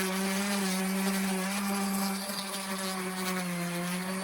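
A 240 grit sanding disc on a spinning power tool works over the face of a classic Ford wheel, giving a steady high whine with a scraping rasp layered underneath.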